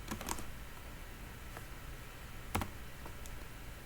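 Sparse, faint clicks of keys on a computer keyboard as a short command is typed, irregular taps spread over a few seconds with a low steady hum beneath.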